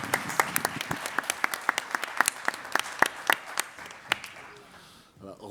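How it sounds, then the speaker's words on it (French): A conference audience applauds the speakers, with dense, steady clapping at close range that fades out toward the end. "je vous remercie d'applaudir ces brillants intervenants"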